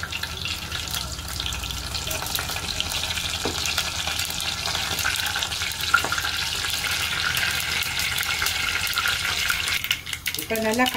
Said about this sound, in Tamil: இப்போ நல்லா கடுகு பொரிஞ்சிட்டது